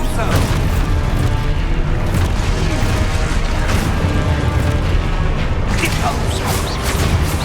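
Spell blasts from Hogwarts Legacy, with a continuous loud booming, crashing rumble of magic explosions and impacts that runs the whole time, with a few sharper cracks and voice-like sounds mixed in.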